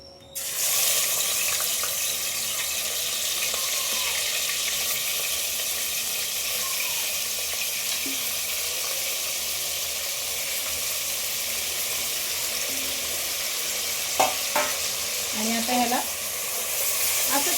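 Steady, loud sizzle of meat frying in hot oil, continuous throughout, with a few brief clinks near the end.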